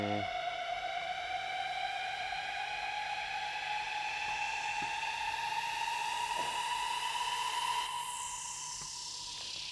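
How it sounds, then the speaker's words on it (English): A siren and a riser sweep upward together in an electronic dance music track, layered with rising tones that climb steadily under a hissing noise wash that brightens toward the end of the drop. "Same one here, same siren and riser at the end of the drop."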